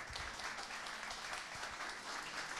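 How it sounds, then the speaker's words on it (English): An audience at the GigCityElixir 2023 conference applauds a speaker. The clapping is dense and sustained, fairly faint and distant, with no break in it. "Everybody give a round of applause for Steve."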